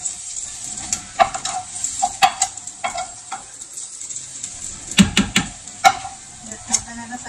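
Sausages frying in a pan for hot dogs, a steady bright sizzle broken by repeated sharp scrapes and clacks of stirring, close and fairly loud.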